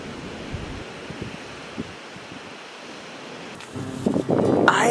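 Seaside waves and wind along the shore at Oarai, heard at dusk on foot: a soft, steady surf wash with gentle gusts for most of the time, then a louder burst of wind rumble against the microphone near the end.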